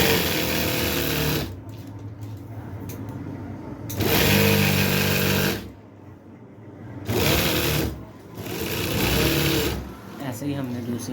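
A sewing machine stitches the band of a kurta in several loud, close runs of whirring, rhythmic clatter that rise and pause, with someone talking over and between the bursts.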